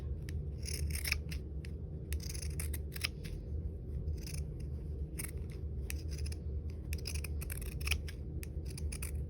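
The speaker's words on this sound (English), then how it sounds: "I'm going to use my pinking shears." Pinking shears snipping through quilted fabric for a sewn ornament, steady runs of close crisp crunching cuts in repeated bursts over a low background hum, no talk.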